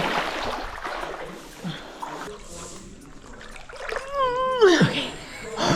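Water splashes and sloshes as a swimmer lowers into the cool fresh water of Dos Ojos cenote near Tulum, Mexico, close and irregular, mixed with breathy vocal sounds and a rising exclamation.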